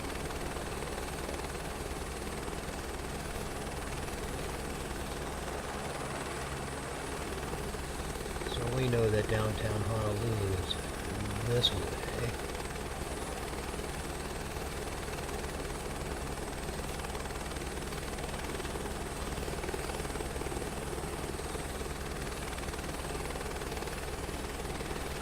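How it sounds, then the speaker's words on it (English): A continuous helicopter drone with steady rotor thrum in Microsoft Flight Simulator fills the background throughout, while someone talks briefly over it. "A little helicopter sightseeing tour."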